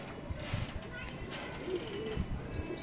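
Soft cooing from a female Kalsiri Teddy pigeon, faint low coos among rustling and background noise.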